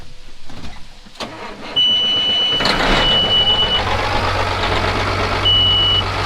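A Case IH 340 Magnum tractor's cold engine cranks with clicks, then catches at about two seconds and settles into a loud, steady mid-pitched idle, with faint electronic beeps around it, heard alone.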